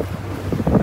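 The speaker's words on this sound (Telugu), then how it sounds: "అలలు ఇక్కడ చాలా ఎక్కువ ఉన్నాయండి" A boat rides choppy waves in strong wind, heard as a brief, loud rush of buffeting wind noise over low water rumble and slaps.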